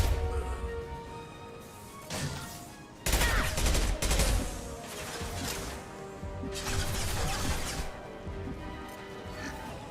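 Impact shot fired in the video game Mass Effect 2, heard as loud, crashing weapon bursts layered over ongoing battle noise, with one strong blast near the middle and several rougher bursts following.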